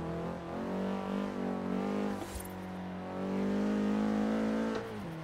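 A low-horsepower Nissan 240 drifts through streets in Forza Horizon 3, its engine holding a steady strained drone that rises and falls with throttle, briefly dipping before revving again, loud and close with no talk.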